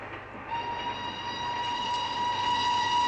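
A train rumbles along with a steady mechanical drone and a sustained whistle-like tone, close and continuous.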